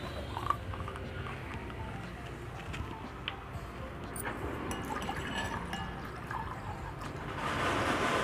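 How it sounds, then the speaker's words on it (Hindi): Water is poured into a golgappa spice mix of ground red chilli and cumin in a home kitchen, a soft steady trickling and splashing that swells near the end, faint and close with no talk. "मैं इसमें पानी मिलाऊंगी।"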